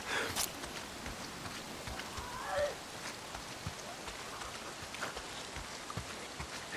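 Steady rain in the video game Days Gone hisses continuously, with soft footsteps and a few scattered louder hits and creaks over the wash.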